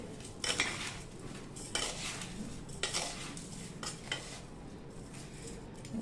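A spoon scrapes and knocks against a metal pot while thick lemon pickle is stirred with sugar, producing repeated soft scraping strokes at a steady pace.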